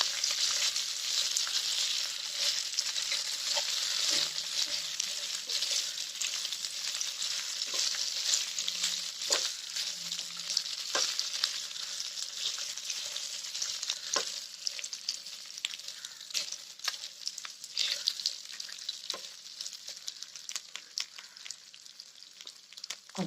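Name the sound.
stirring food frying in a pan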